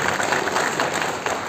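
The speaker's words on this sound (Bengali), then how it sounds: "জোরে হাততালি হোক।" A crowd at a Rabindra-Nazrul birth anniversary dance programme in Kolkata gives a short, dense round of clapping, loud and sustained for its brief length.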